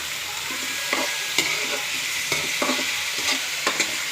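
Tuna being sautéed in a pan gives a steady close sizzle, punctuated by a series of quick scraping and tapping stir strokes at irregular intervals.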